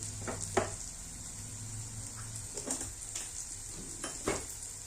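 Bacha fish cooks in a pan with turmeric and sugar under a steady, soft sizzle, while a utensil stirs and scrapes against the pan in several short, distinct clinks.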